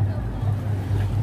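Motor boat idling at the harbour of Larantuka, a loud, steady low engine drone with wind buffeting the microphone, heard briefly and alone.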